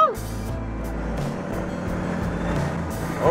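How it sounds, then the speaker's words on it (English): A truck's Jake brake (engine brake) engaging, a loud, close, rumbling low engine drone with rough staccato pulses that steadies and shifts, with a voice speaking briefly over it. "Talking Jake brake right there."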